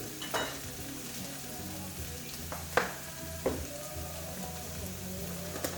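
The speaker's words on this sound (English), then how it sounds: "I'm putting the peppers in." Peppers frying in a pan give a steady, quiet sizzle, broken by a few sharp clacks of a utensil against the pan.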